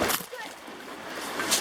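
A hiker slips on a rock while crossing a creek in the Kings Canyon Sierra backcountry, with two quick splashes at the start and end against running water, and voices nearby.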